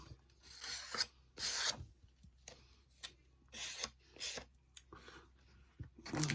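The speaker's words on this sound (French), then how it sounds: "Je vais juste limer un petit peu" A craft card (an artist trading card) has its edges filed with a small sponge-like file, making close, dry rasping strokes in short bursts separated by brief pauses.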